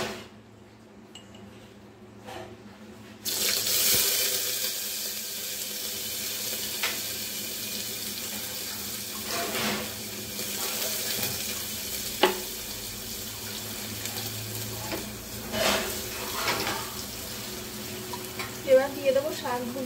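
Garlic hits hot oil in a home kitchen with a sudden loud sizzle that keeps hissing steadily, broken by scattered crackles and pops.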